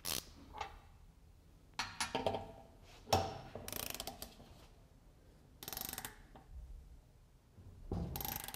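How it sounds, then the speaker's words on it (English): A torque wrench ratchets as it tightens a dry, unlubricated bolt during a torque test, giving a few short bursts of clicking separated by quiet pauses, with bright broadband clicks standing out near the middle and at the end. "We'll be reading our torque with our torque wrench here"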